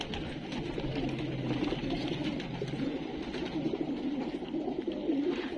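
Pigeons in a pigeon shop, including Madrasi and pattewale birds, give a soft, continuous low cooing. It carries steadily throughout, with faint background noise and no talk.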